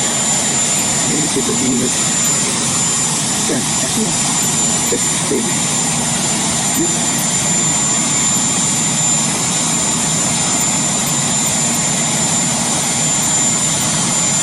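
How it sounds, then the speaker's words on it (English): A loud jet-powered helicopter roars with a steady, unbroken engine whine and a high tonal drone throughout, close and dominant, while a voice speaks briefly underneath. "this loud helicopter, this jet copter, which has basically jet engines that sound so loud"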